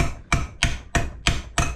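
A hammer strikes a custom bike part five times in steady rhythm, each blow a sharp, close metallic bang with a brief ring after it.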